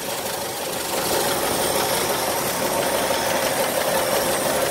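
A 4.9-liter straight-six in a 1983 Ford F-150 runs at a steady idle, its smog pump blowing with a constant whirring, knocking hum, close and even throughout.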